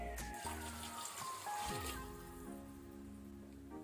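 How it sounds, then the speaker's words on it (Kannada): Water pours into a cooking pot of soaked jeera rice for kuska rice, a soft, quiet trickle and splash that runs steadily for a few seconds, with faint kitchen clatter around it. "ಈಗ ನಾವು ಇದಕ್ಕೆ ನೀರು ಹಾಕೊಳ್ಳುವ,"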